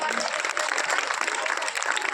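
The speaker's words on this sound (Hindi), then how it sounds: "तालियां होनी चाहिए," Audience at a village school's Republic Day ceremony claps in a dense, continuous round, with voices mixed in beneath the applause.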